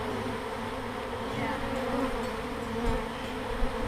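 Honeybees around an urban hive give a steady, dense buzz that stays close and fills the whole stretch, with no voices over it.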